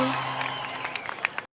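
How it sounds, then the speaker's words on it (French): A street crowd clapping inside a children's song, a short burst of applause mixed over sustained musical tones, with a few sharper claps near the end before a brief cutout. "La foule, les applaudissements de la rue."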